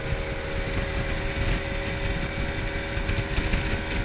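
Four-stroke outboard engine on a 1995 Seaswirl Striper 2150 center console boat drones steadily while running at speed, mixed with wind and water rush over the hull.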